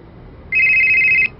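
An incoming call sets off a single electronic telephone ring, a steady warbling tone lasting under a second, clear and close over quiet room noise.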